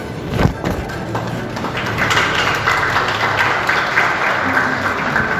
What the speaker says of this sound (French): Merci de lui donner cet applaudissement, il le mérite fort bien